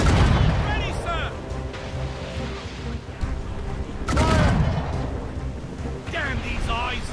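Ship cannons firing in a naval battle in Assassin's Creed Rogue, heavy booming blasts near 0 s and 4 s with lingering rumble, mixed with game music and shouting voices.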